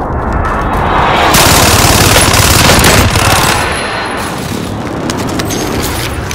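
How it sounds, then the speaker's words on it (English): Close air support strike in Warzone: loud sustained rapid gunfire from above, a dense roaring barrage that swells for a few seconds then eases into a continuing rumble, with no voices over it. "I need close air support on this target."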